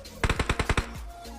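Automatic gunfire in a mobile shooter game played on a Samsung phone: a loud, close burst of about seven rapid shots in even rhythm, then a short tail of fading echo.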